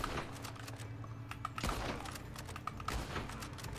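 Gunfire in the western video game Red Dead Online, with a few sharp shots scattered over a steady low hum of game ambience.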